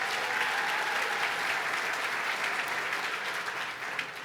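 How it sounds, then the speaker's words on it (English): An audience claps for New York State Comptroller Tom DiNapoli at Governor Cuomo's 2015 Opportunity Agenda address, steady dense applause that holds for about four seconds before easing slightly. "Let's give him a round of applause."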